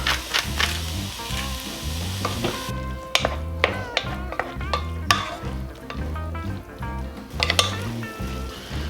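Ground beef seasoned with salt and pepper browning in a pan for soup, a loud close sizzle under repeated rhythmic spoon scrapes and sharp clanks on the pan, with no talking.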